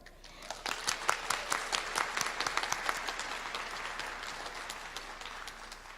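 Audience applause at a nursing pinning ceremony; a crowd claps with crisp, scattered individual claps at first, then the clapping blends into a fuller, steady wash that slowly eases off, moderately distant.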